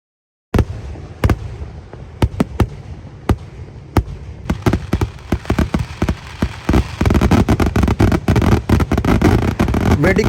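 Fireworks at a Kerala temple festival: a rapid barrage of sharp, loud bangs, sparse at first, then thickening into a nearly continuous crackling volley, close and booming.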